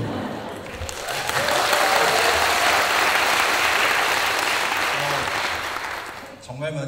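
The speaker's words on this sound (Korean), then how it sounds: "박수 소리가 좀 작아요" A large seminar audience breaks into dense, sustained applause that swells after a brief voice, holds strong for several seconds, then tapers off.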